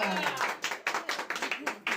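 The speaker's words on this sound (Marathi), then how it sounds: "टाळ्या टाळ्या." A small crowd at a Ganpati installation ceremony claps in a short burst of rapid, uneven handclaps, fairly close, with a voice speaking over it.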